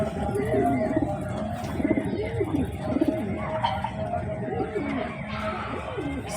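Kala Sobuj breed pigeons coo steadily nearby, about seven rolling calls in a repeating rhythm over a busy background, while someone talks over them.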